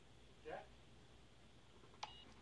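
A machine in a video game gives a single short electronic beep near the end, faint and isolated, after a brief soft sound earlier in an otherwise quiet stretch.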